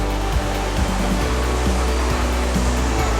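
A small waterfall with a strong, heavy flow rushes in a dense, unbroken roar close by, with low thuds scattered through it and no talking.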